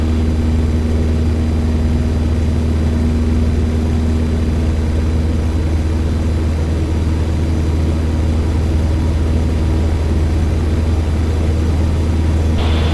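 A Piper TriPacer light airplane climbing out after takeoff in Alaska, its propeller engine droning loud, steady and close from the cockpit with a constant low hum and no break.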